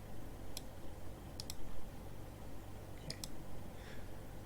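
Computer mouse clicks while working in a spreadsheet program, a few sharp, quiet clicks in pairs, spaced apart over a steady low background hum.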